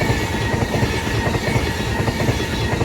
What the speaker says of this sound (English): About to pass through now is going to be an Avanti West Coast service running from London Euston to Glasgow Central.